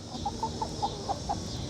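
Chickens cluck in a quick series of soft, evenly spaced clucks over a faint background hiss.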